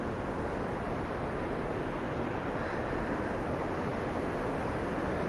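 Powerful river water rushes through Dean Village in Edinburgh, a loud, constant broadband roar that holds evenly throughout with no voices.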